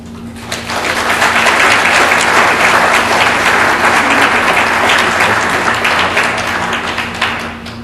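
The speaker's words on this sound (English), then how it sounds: "give your supporters a round of applause" A large crowd at a graduation ceremony applauds loudly and steadily for several seconds, a dense wash of clapping that tapers slightly at the end.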